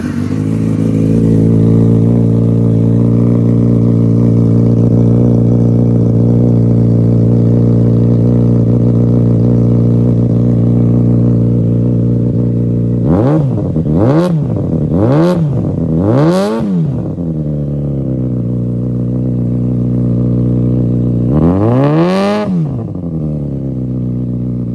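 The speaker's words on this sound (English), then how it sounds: "Here's what the eBay exhaust without the baffle sound like." Yamaha FZ6 motorcycle with an eBay exhaust running without its baffle: a loud, steady idle drone, then four quick sharp revs in a row and one longer rev after a pause, close to the bike.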